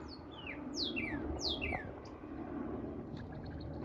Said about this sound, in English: That bird just said, dip out, dip out.